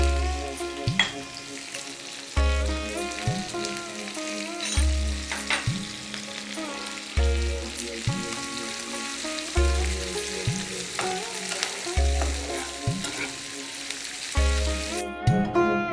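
Chopped garlic, green chilli and onion fry with salt over a lowered gas flame, a steady crackling sizzle with regular low thumps recurring every second or so, and no talk.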